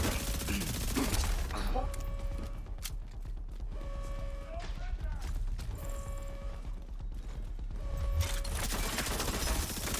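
Gunfire aimed at a UAV in The Division 2 rattles in quick repeated bursts mixed with mechanical clanks and tonal game beeps, loud and close throughout, and no one speaks.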